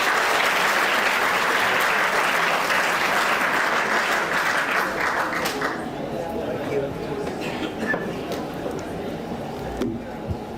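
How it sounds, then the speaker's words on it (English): Conference audience applauding loudly and steadily, a dense wash of clapping that thins slightly toward the end while a few voices murmur underneath. "Please give a big round of applause"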